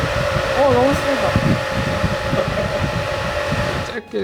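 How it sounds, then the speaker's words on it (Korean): CineWind filming fan runs at high speed about two metres away, a steady whooshing roar with a tonal whine, while a person talks over it before it cuts off. "이 선풍기를 2m 정도의 거리에 떨어뜨려 놓고 전원을 1단계부터 10단계까지 켜면서 테스트를 해봤거든요"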